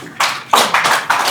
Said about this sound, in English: let's give her a welcome applause